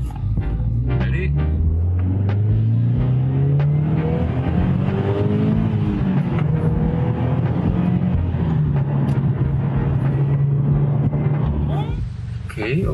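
A Subaru BRZ fitted with a Vortech supercharger accelerates at full throttle, its engine a loud, steady, rising drone held for several seconds with a whining supercharger tone, close and continuous.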